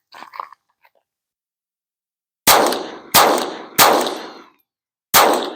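A Taurus TX22 Competition .22 pistol fires four loud, close shots: three in quick succession about two-thirds of a second apart, then one more after a pause, each a sharp crack with a brief ringing decay, preceded by faint handling clicks.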